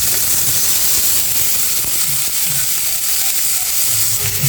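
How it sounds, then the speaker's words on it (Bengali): Onion and garlic frying in hot mustard oil, a loud, dense, continuous sizzling hiss close up with faint stirring underneath. "তেলটা গরম হয়ে গেছে পেঁয়াজটা আর রসুনটা একসাথে দিয়ে"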